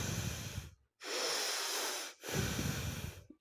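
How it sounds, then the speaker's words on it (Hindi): Forceful bhastrika pranayama breathing: two or three loud, hissing bursts of breath through the nose, each lasting about a second, separated by brief silent pauses, close and without speech. "इस तरह से सांसों की आवाज़ आते रहना चाहिए।"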